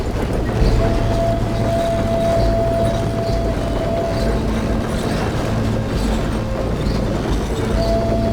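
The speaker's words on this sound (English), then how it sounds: "Supposed to meet the early train to Saint Denis." Steam train in Red Dead Redemption 2 rolling along steadily, a dense continuous rumble with faint rhythmic clatter and a thin high whine running through most of it, loud and unbroken throughout.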